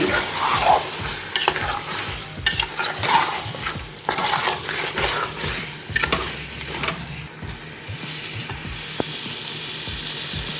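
Country chicken pieces fry in masala in a pan. A close, continuous sizzle is broken by repeated scraping and clinking stir strokes, with no talk.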